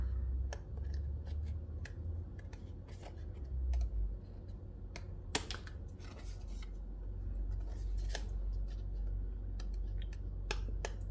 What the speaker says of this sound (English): I'm just going to cut this excess off